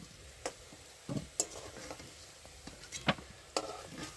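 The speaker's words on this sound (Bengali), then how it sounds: "আমি এখন আলুগুলো ভালো করে ভেজে নিচ্ছি" Potatoes frying for aloo dum produce a faint, sparse sizzle. A handful of distinct clicks and taps, likely from stirring in the pan, punctuate it at irregular intervals.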